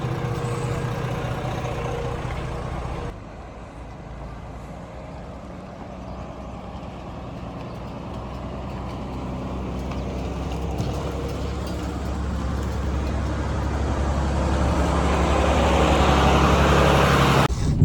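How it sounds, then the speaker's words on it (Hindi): A Volvo B11R bus engine runs with a deep, steady rumble close by, briefly dropping in level early on and then gradually building in loudness and roar toward the end, with no talking. "ये B11R का कुछ इंजन है, देख रहे हो कितना घातक इंजन लग रहा है।"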